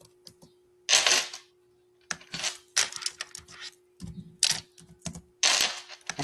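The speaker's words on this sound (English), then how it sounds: "take it you're typing" Keys tapped on a computer keyboard in irregular clusters of clicks with short pauses, close and fairly quiet, over a faint steady hum.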